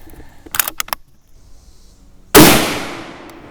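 A single loud rifle shot from a 35 Remington Rimmed handload of 37.5 grains, a sharp crack with a long decaying echo, preceded by brief metallic clinks.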